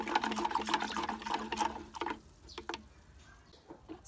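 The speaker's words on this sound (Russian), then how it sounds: "Хорошенько это дело размешиваем" Fungicide powder being stirred into eight litres of water for treating roses, heard as quick rhythmic swishing and sloshing, fairly faint, which slows into a few scattered taps and clicks.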